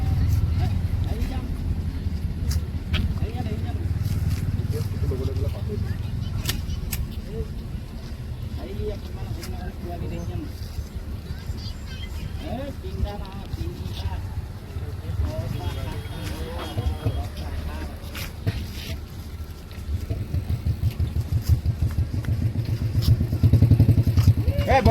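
Motorcycle engine idling and running steadily on the NH-39 highway, a continuous low rumble throughout with people talking over it nearby.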